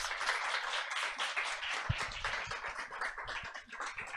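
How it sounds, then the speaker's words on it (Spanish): Sustained crowd clapping at an academic faculty event, a continuous wash of many hands at a steady level, slightly thinning toward the end, with no voices on top. "Por favor, un aplauso."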